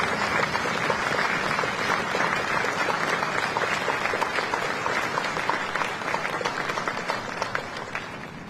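At a National Veterans Day observance, an audience breaks into steady, dense applause that continues evenly for several seconds before easing slightly toward the end, with no voices on top.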